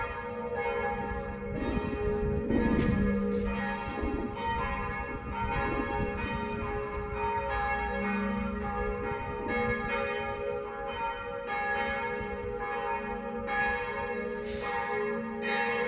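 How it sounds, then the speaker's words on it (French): Church bells in Tours, France ring steadily for the whole stretch, their overlapping tones sustained and resonant, with a few louder strikes near the start. "Les cloches."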